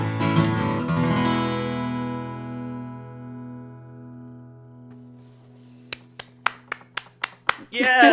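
A song's clapping section comes in as a run of about eight sharp, evenly spaced claps after a long ringing chord fades out. The claps are close and crisp and end with a brief voice.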